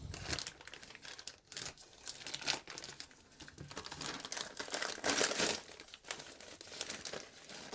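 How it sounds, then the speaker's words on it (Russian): A plastic packaging bag wrapped around a measuring instrument crinkles and tears open in repeated bursts of close, rustling crackle, with no voices. "Наверное, придется, пакет вскрыть."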